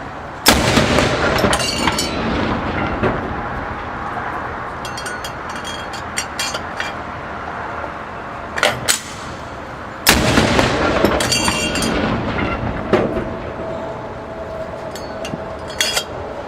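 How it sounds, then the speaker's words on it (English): A ship's 3-inch 50 naval gun fires a ceremonial salute aboard a moored museum destroyer escort during a Coast Guard Day event, two loud booming shots about ten seconds apart, each followed by a long rumbling echo and outdoor crowd noise. "Mr. Collin, when the gun crew is ready, please fire"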